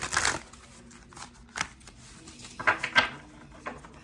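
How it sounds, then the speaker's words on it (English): Tarot cards being shuffled by hand, a few quick riffling bursts separated by quiet pauses, close and soft with no voices. "I'm going to give this a good shuffle for pile three."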